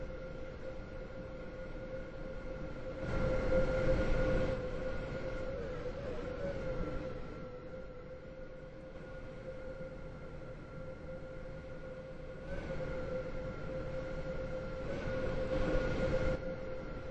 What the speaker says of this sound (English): The train now approaching Platform 7 terminates here.